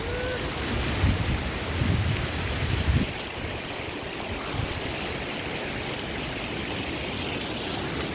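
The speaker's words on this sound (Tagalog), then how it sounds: "Humangin pa. Ang lamig." Strong wind gusting across an open microphone outdoors, a steady broadband roar with louder buffeting bursts early on, then a constant rushing blow.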